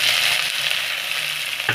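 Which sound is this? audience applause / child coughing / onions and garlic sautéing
onions and garlic sautéing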